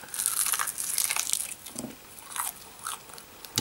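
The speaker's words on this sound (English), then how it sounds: "Oh, the crunch is back." Crunchy bite into a chicken piece with no curry marinade on it, a dense crackling crunch followed by softer chewing sounds, close to the microphone with no talking.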